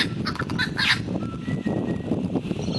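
A brush wattlebird gives harsh, coarse squawking calls outdoors, loud and close, in several rough bursts over a busy background of rustle and noise.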